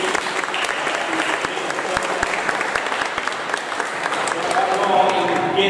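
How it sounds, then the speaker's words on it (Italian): Audience applause fills a church at an organ inaugural concert, a dense, steady clatter of many hands that swells slightly toward the end, with some voices mixed in. "facciamo anche un applauso."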